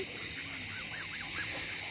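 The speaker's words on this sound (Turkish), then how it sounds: "Kazlar, ördekler." Faint honking calls of geese and ducks carry from a distance across a farm lake near Kuşadası, Turkey, over a steady, hissing background.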